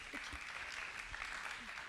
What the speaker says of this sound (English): Rose is clapping her hand there